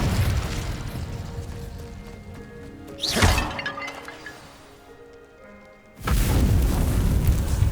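A fiery Incendio spell cast in Hogwarts Legacy erupts as a sharp burst around the middle, its crackle fading into a quieter lull before the loud game ambience swells back in.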